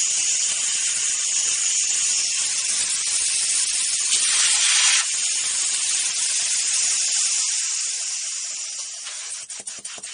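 A steady, loud hiss from a leaking old valve on a hydraulic booster pump, continuous and close, swelling briefly midway and thinning near the end with a few faint clicks.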